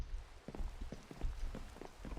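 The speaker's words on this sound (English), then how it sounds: "Oh man, it's raining." Rain patters onto surfaces in a video game, a soft, faint, steady pattering of drops with no voices.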